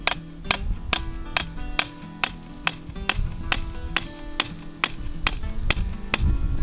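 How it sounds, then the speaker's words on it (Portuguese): A hammer drives a steel rebar into place during construction work, about a dozen sharp metallic ringing strikes at a steady, slightly uneven pace, loud and close with no speech. "Eu vou aplicar o vergalhão aqui com o auxílio do martelo"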